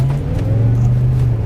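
A high-mileage supercharged Range Rover engine in reduced engine performance mode with a transmission fault drones steadily under load, a loud, close, even hum with no talk.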